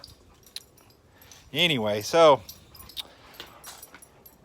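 A dog whimpers twice at close range, two short whining yelps in quick succession beside a Bubba Keg grill, with someone speaking briefly before and after.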